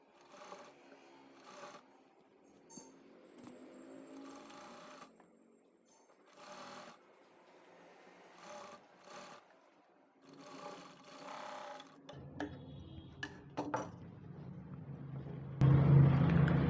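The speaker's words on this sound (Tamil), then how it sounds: "இதுக்கு மேலே ஒரு டாப் ஸ்டிச் போடணும்." A sewing machine runs a top stitch on a frill frock in short bursts, whirring for a second or two then pausing, repeated several times, close and fairly quiet, ending with a louder thud-like section.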